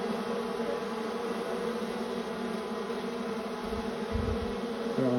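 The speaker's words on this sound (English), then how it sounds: "bees all over this thing" Dense, steady hum of a honeybee swarm covering a hive frame lifted by hand, a continuous close drone with no voices, plus a brief low thump near the end.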